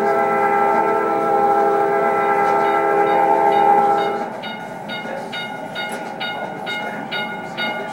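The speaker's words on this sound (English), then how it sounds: "Pull the horn as you go past it." Train horn in a Norfolk Southern engineer simulator, a steady multi-tone blast sounding loud and sustained for about four seconds, then cutting off to leave rumbling engine noise with faint high chimes and beeps.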